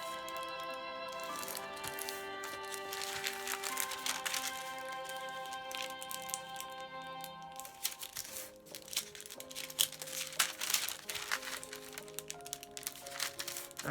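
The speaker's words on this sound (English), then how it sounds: "And start folding, trying to make the folds about the same size as they were for the other piece." Paper is folded back and forth into pleats, giving soft crinkles and light creasing crackles throughout, faint and close, over a steady background tone.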